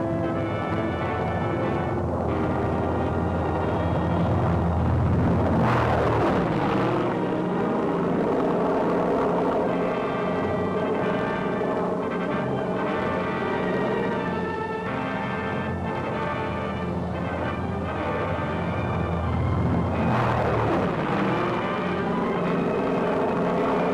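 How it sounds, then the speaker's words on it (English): WWII tow planes towing gliders back to England: a continuous droning propeller-engine roar that swells loudly as aircraft pass near around the middle and again toward the end, with no voices. "Gliders used on the first day's operation and those used in resupply are towed back to England."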